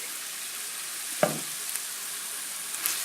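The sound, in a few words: stirring and frying mince in a pan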